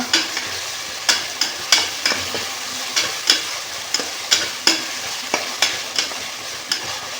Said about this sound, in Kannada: ನಾನು ಸ್ವಲ್ಪ ತರಕಾರಿ ಕಟ್ ಮಾಡಿ ಇಟ್ಕೊಂಡಿದ್ದೀನಿ ಸಾಕು ಚೆನ್ನಾಗಿ ಫ್ರೈ ಮಾಡ್ಕೊಳ್ಳೋಣ